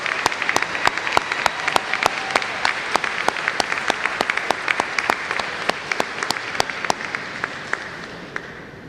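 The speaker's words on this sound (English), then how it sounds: "give them a round of applause." Audience applause at a funeral service institute graduation ceremony, a steady dense clapping from a large crowd with sharp individual claps standing out, sustained evenly throughout before slowly easing.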